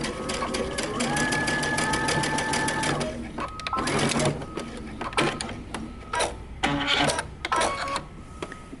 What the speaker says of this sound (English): then you're going to sew until you meet your other stitching